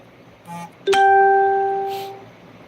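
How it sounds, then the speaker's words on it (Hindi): A single bright bell strike rings out clearly and sustains for over a second before fading, preceded by a brief soft chime. "घंटी बज रही है"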